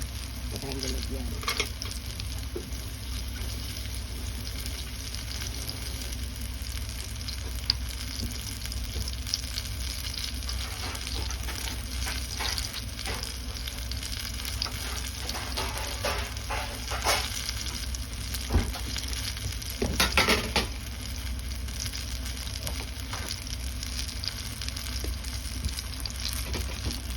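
Turon, banana and jackfruit spring rolls, sizzling steadily in hot oil with constant crackle and occasional louder pops and stirring, heard close and moderately quiet for the whole stretch.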